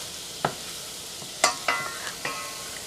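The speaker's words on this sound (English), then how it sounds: "I have to stir it and make sure that the garlic gets golden brown" Garlic fries in a pot with a soft, steady sizzle while a utensil stirs it, giving a few distinct scraping knocks against the metal.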